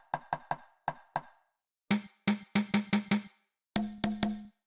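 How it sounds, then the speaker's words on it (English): Conga drum hits from an Amapiano sample pack, played in three short groups of rhythmic slaps and tones with resonant low bodies, close and clean, with no voices over them. "The conga."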